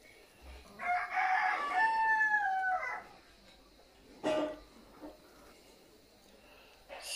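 A rooster crows once in a garden, loud and near, followed by brief scattered clucks from the chickens in the quiet outdoor surroundings.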